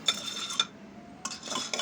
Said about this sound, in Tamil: ஒரு குக்கரில் நான் இப்போது 1/2 டம்ளர் தட்டாம்பயிரை எடுத்து நல்லா வறுத்துட்ருக்கேன்